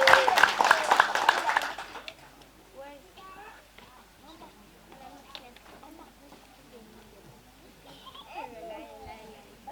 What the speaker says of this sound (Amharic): እስኪ ለዚህ ጌታ እልልታችሁ ጭብጨባችሁ ይሰማ